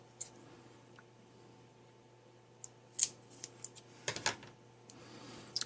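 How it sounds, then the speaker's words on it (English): A few quiet snips and crisp clicks of scissors cutting close by, scattered irregularly over a faint steady electrical hum. "I'm going to go ahead and cut this."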